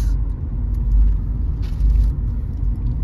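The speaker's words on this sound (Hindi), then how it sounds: "हल्की चला यार गाड़ी प्लीज" A car drives along a road, its steady low engine and tire rumble filling the cabin, continuous and fairly loud with no pauses.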